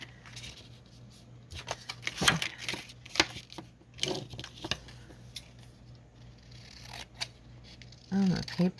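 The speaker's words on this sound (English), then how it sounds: "My scissors do not want to cut right." Scissors cutting paper for journal cards, giving a series of quick snips and crisp rustles at close range with some gaps, and a short vocal sound near the end.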